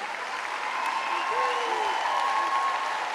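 An audience at a children's orchestra and choir concert in Guadeloupe claps steadily, a moderately loud, continuous patter of applause heard from some distance, with faint voices beneath it.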